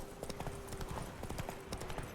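Roach, the horse ridden in The Witcher 3: Blood and Wine, trots with steady, close clip-clopping hooves that fall in an even rhythm from start to finish.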